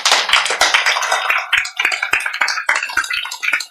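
An audience claps in response to a Buddhist sutra lecturer's call for applause, a dense burst of many hands that thins into scattered, uneven claps over a few seconds, close and fairly loud with no talk.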